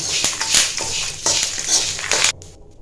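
Dry coconut, chilies and curry leaves fried in a pan, with repeated scraping stirs of a spoon against the metal and a faint sizzle, in close short bursts before stopping.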